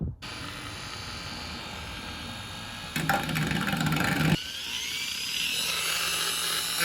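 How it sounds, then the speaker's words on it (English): A Dremel rotary tool cuts and shapes fiberglass on a Lexus IS300 body kit, a close, continuous high-pitched whine that grows louder and harsher mid-cut, then settles back. "I got my Dremel. I'm gonna use this bit to shape, and I'm gonna basically cut this out as clean as I can."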